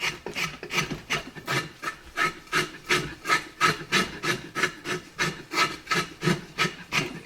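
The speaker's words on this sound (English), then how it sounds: "Hear that scraping noise? It's the music of a spoke shave." A spokeshave scrapes steadily along a wooden decoy body being carved, giving close rhythmic rasping strokes, roughly two per second, heard alone.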